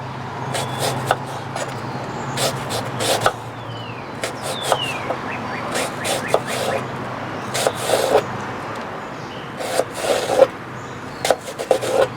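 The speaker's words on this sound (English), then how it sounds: "we're just going to slice into this very thin slices" A knife cuts an apple into very thin slices outdoors, giving a series of short scraping, rasping strokes in irregular bursts over a steady low background hum.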